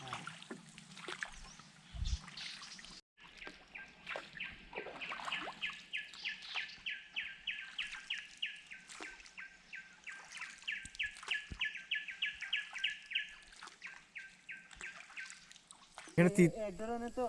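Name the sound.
many birds chirping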